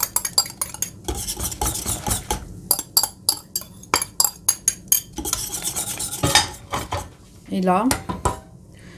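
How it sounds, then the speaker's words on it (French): A utensil stirs a homemade custard dessert mixture in a pot as egg yolk is poured in, rapid rhythmic clinking and scraping against the metal, close and loud, with a brief spoken remark. "on mélange et en même temps on verse notre jaune d'œuf"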